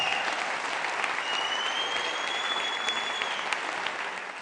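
Steady, loud applause from a lively crowd at a campaign rally, continuous clapping with cheering filling the whole stretch without a break.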